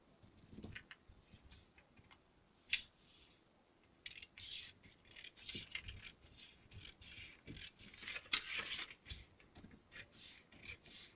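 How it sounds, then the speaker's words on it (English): Scissors snip and rasp through paper while cutting out a skirt block pattern, a quiet, irregular run of short cuts with a few sharper snips, close by and with no talking. "So we're gonna cut it out."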